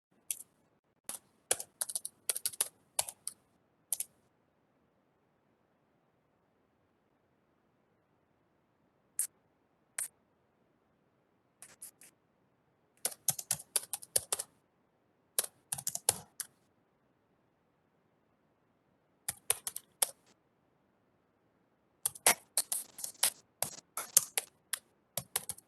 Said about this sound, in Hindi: मैं लिख रहा हूँ चैट बॉक्स में।